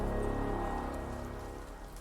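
Steady rain falls in the dark fantasy game Ender Lilies, a continuous close hiss of drops on surfaces that stays even throughout with no voices.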